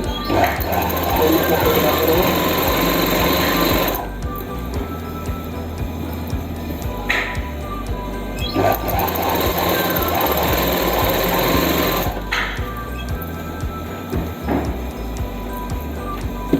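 A sewing machine stitching the leg seam of palazzo pants runs in a loud continuous whir, stops briefly around four seconds, starts again, then pauses once more near twelve seconds, with faint speech at moments.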